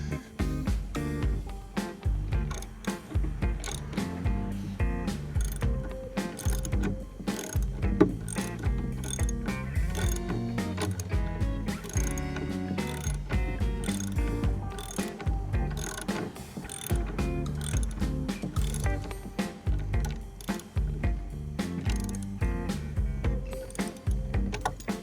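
A ratchet tightens bolts on a homemade ramp, sounding as a fast, continuous series of sharp clicking strokes in bursts, close and loud throughout with no talking.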